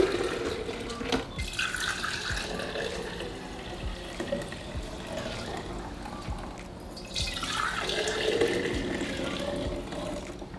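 Freshly made juice pouring from a juicer into a container, a continuous liquid trickle and splash that swells again toward the end, with faint background sounds.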